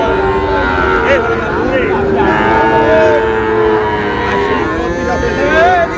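Cattle, young bulls and heifer calves, low and moo repeatedly amid a crowded outdoor cattle market in Cumilla, Bangladesh, with people talking in the background and steady ambient bustle.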